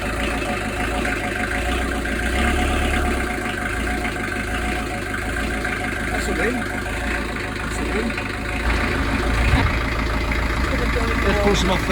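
A narrowboat engine runs at a steady low diesel idle, a continuous rumbling chug close by throughout, with a person talking over it now and then.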